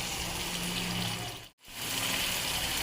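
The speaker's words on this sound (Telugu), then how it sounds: "ఇంత గ్లాస్ వాటర్ పోసాను." A small glass of water is poured into a pumpkin curry cooking with jaggery. It makes a steady, close rushing pour with a brief break midway before the flow resumes.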